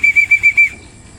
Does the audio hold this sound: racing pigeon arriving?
yes